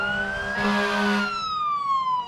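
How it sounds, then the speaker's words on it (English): Fire truck sirens wail, sweeping up and down loudly, with a steady low horn tone beneath, as a fire engine passes close by in a street parade. "lots of sirens, that's cool"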